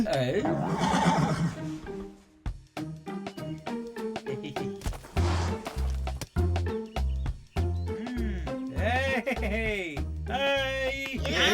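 A horse whinnies and neighs several times in quick succession, loud and close, with short pauses between the high, shaky calls.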